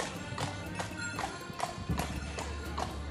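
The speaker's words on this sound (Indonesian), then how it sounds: "naik kuda-kuda delman klasik ini, heritage ini ada di parkiran di depan tower" Horse hooves of a classic horse-drawn carriage clip-clop in a steady walking rhythm near the Leaning Tower of Pisa in Tuscany, Italy, moderately close, with a faint engine drone and street ambience beneath.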